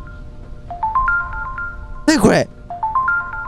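A phone rings in a video game, a short burst of repeated electronic ring tones cutting through, with a voice talking before and after it and with game ambience underneath.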